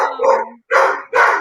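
Dogs barking in a home during heavy Nashville thunderstorms: three loud, close bursts with short gaps between them, the first rougher and mixed with a whine or voice.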